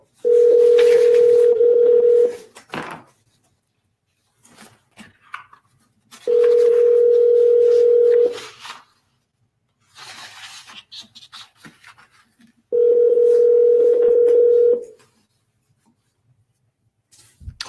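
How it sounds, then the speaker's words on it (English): A telephone ring tone sounds three times in long, steady buzzes separated by pauses, heard through a speakerphone with faint scratchy rustling in between. "Hope you guys can hear it ringing."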